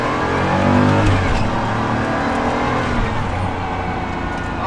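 Inside a turbocharged sports car, the engine drones and revs steadily at close range, a loud continuous hum with shifting pitch and no talk over it.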